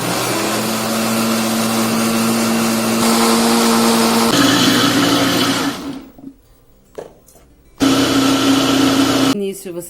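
Kitchen blender whirring loudly and steadily as it mixes bread dough batter, then stopping and restarting in short bursts before running again near the end, close by, with speech over the motor.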